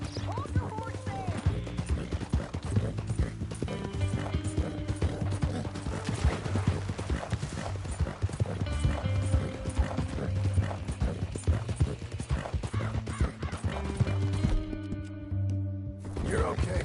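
Horse hooves clip-clop steadily in Red Dead Redemption 2 on PS4, over a dense layer of game music and clanking, with a brief lull near the end.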